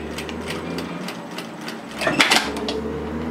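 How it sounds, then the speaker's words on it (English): A sewing machine stitches a short seam on a knit cardigan from the hemline up along the serged edge, its needle running in a steady, rapid mechanical patter with a brief louder burst near the end. "all I'm going to do is just stitch from the hemline up right on the edge of my serging"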